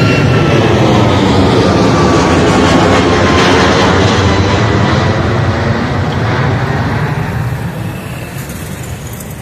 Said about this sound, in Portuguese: Olha o avião!